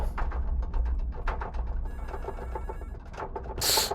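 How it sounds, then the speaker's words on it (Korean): A telephone rings in a horror video game, a rapid, rattling bell trill pulsing in quick repeated bursts at moderate loudness, ending in a brighter, harsher burst. "전화가 오는데"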